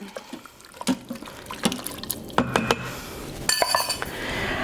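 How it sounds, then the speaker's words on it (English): Orange chicken curry with peppers is stirred in an Instant Pot, with wet sloshing, scraping and clinks of a utensil against the metal pot, close and irregular. "So I'm just going to stir this up a little bit."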